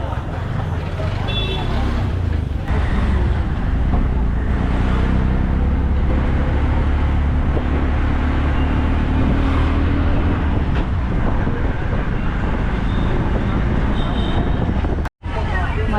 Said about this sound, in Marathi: तर इथून रिक्षा पकडतोय आम्ही स्टेशनला जायला